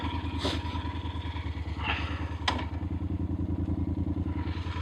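A motorcycle engine runs steadily on an off-road trail, with a loud, even, pulsing throb and a few clattering knocks over it.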